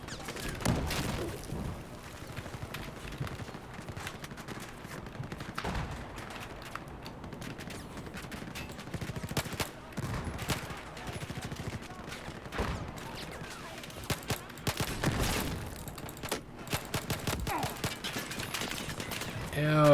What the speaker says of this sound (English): Ow, too many people shooting at me.